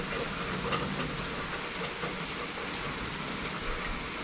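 Rain falling outside a camper van, a steady soft hiss of drops with faint patters, continuous and fairly quiet throughout.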